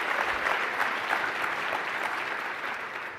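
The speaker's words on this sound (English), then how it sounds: "Give Robert Yang a round of applause, everybody." Audience applause at a keynote on stage, a dense, steady wash of many hands clapping that fades slightly toward the end, with no voices over it.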